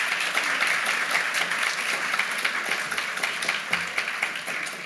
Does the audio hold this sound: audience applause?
yes